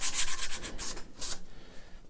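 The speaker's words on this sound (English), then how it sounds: "So let me go ahead and sand all of these edges." Sandpaper rubbed by hand along the edges of a wood panel, a run of quick scratchy strokes with several brighter bursts, close and steady, fading toward the end.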